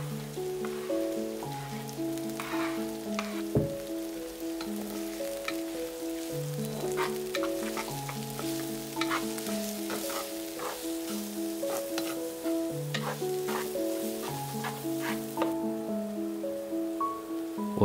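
Garlic and chilies sizzle and crackle steadily in hot vegetable oil over medium-high heat for a crispy pork belly stir-fry, a dense continuous frying hiss with scattered pops and stirring, close and fairly loud, with no voices.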